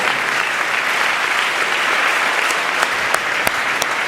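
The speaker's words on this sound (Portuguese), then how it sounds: "dê uma salva de palmas ao Senhor" A church congregation applauds together, a steady, full wash of clapping with a few sharper individual claps standing out near the end, sustained and fairly loud.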